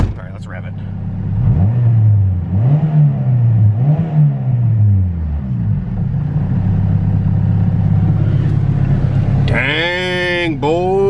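A turbocharged Honda GSR engine in an EF sedan on a dyno rises through several sharp revs, each climbing and falling back, then a final pair of quick high revs near the end, loud and close.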